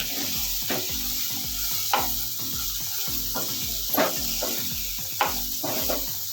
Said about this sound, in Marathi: आता हे 1 मिनिट आपल्याला मसाले मिक्स करून घ्यायचे आहेत